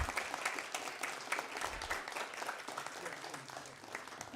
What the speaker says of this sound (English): Please give a big round of applause to our winning team.